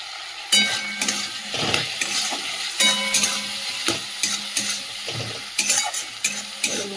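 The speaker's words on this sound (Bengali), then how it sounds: "মশলাটা কষি।" Spice masala fries with a steady sizzle in a pan while a spoon scrapes and stirs it in repeated strokes, with a few metallic clinks against the pan. No one talks over the cooking.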